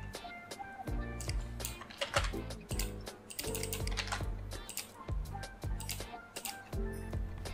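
Someone types text on a computer keyboard in quick irregular bursts of close, crisp key clicks, with short pauses between the runs.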